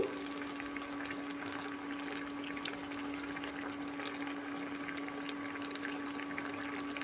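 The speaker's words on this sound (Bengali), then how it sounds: "আমটা সেদ্ধ হয়ে এসছে প্রায় হয়ে এসছে" Mango pieces simmer in a pot of water for aam jhol, giving a steady, close, even bubbling hiss with no pauses throughout.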